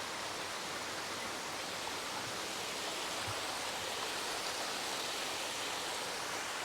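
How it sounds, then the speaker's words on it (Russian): The Gremyachiy Klyuch waterfall roars as a steady, dense wash of broadband rushing water, heard up close and loud without pause and with no voices. "Уже здесь на подходе слышно, как бьет этот водопад Гремячий Ключ."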